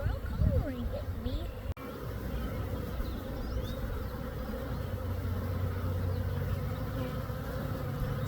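A swarm of honeybees arriving from the north buzzes around a nucleus hive where it has settled. The buzz is a dense, steady drone that fills the whole clip, close and loud, with a few single bees passing nearby.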